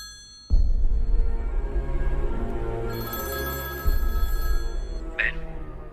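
A telephone rings on an outgoing call, a sustained electronic ringing tone starting after a brief quiet moment and continuing steadily with slight swells.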